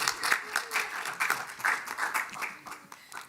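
An audience at a university convocation meeting gives a round of applause, with distinct bursts of clapping pulsing unevenly over a few seconds at moderate distance.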